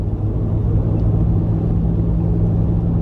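Steady low road rumble of cars driving past nearby, a continuous dense roar with no talking.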